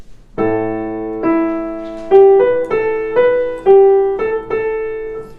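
A slow melody of single plucked notes, first low and sustained, then quicker higher notes, each ringing clearly in a quiet room.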